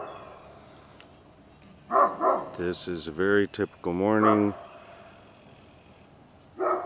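Great Pyrenees dogs on a farm bark in the morning, a burst of loud barks and drawn-out yelping howls that rise and fade, while a person speaks briefly.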